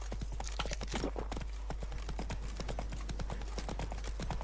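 Geralt's horse Roach trots in The Witcher 3: Blood and Wine, with crisp, rapid clip-clopping hooves in a steady rhythm, close and prominent, over a low constant background hum.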